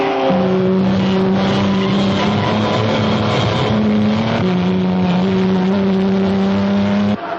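Racing cars roar around a track in a loud, continuous engine drone with sustained high whines that shift in pitch as they pass, with no talking.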